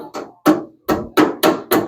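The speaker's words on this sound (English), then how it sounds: "hey, you're using the body hammer for that." A light body hammer taps on a car fender of a 1975 Hemi Plymouth Duster. Six sharp metallic strikes land close and loud in an uneven rhythm, each ringing briefly before the next.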